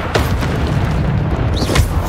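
A Bombarda spell explosion in the video game Hogwarts Legacy, heard as a dense, booming roar that fills about two seconds at steady loudness, with a short whistling flick near the end.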